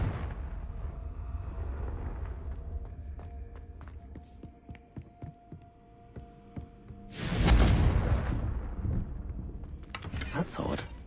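A Confringo blasting spell in Hogwarts Legacy bursts into a loud fiery explosion partway through, over a low humming, throbbing game soundscape, followed by a smaller second burst.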